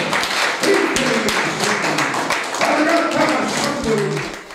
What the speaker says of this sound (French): Applaudissons plus fort.